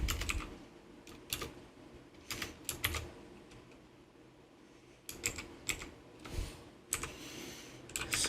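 Someone types on a computer keyboard, a quiet, close run of irregular key clicks in short bursts with pauses between them, heard on its own.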